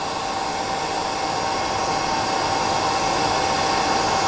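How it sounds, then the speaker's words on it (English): A hair dryer blows steadily and loudly at close range while it is used on a CDC and elk hair caddis fly, a continuous airy whoosh with a constant motor whine and no voices. "get the hair dryer and just blow it back"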